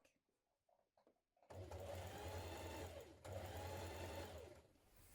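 A sewing machine stitching a jumpsuit runs in two loud, close bursts of rapid whirring after a quiet start, with a short pause between them.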